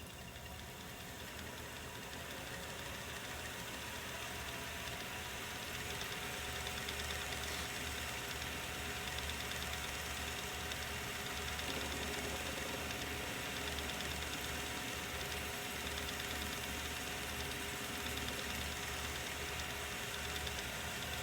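A machine cuts a block of melted-down milk jug plastic, producing a steady, dense whirring drone that runs unbroken and fairly even throughout, with no speech.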